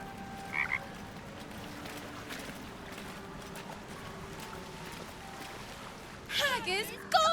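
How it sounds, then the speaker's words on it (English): Frog croaking in the video game Baldur's Gate 3, short croaks over steady game ambience with background music, followed near the end by brief chirpy creature calls. "Let's talk to the frog."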